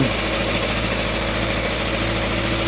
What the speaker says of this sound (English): I warm it up a little bit now so I can set the idle